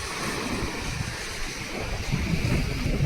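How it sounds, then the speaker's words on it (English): Ocean waves on the beach at Ratnagiri, a steady broad roar of surf mixed with wind buffeting the microphone, constant and fairly loud with a slight swell toward the end. "The rhythmic melody of the waves creates a soothing symphony"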